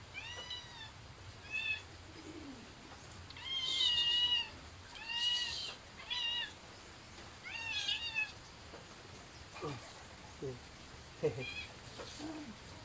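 A pet cat named Balkog meows repeatedly, several distinct drawn-out cries spaced a second or two apart, close and fairly loud, with soft bird coos in the background.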